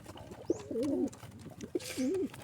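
A pigeon coos twice up close, each call a short low note rolling into a longer throaty warble, with faint background noise.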